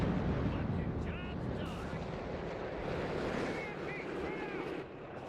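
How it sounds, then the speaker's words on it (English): A walking Stuka dive-bomber barrage in the World War II strategy game Company of Heroes 3, a steady loud rumble of explosions and battle noise lasting several seconds, with faint whistling sweeps over the continuous din. "That's a nice walking Stuka barrage."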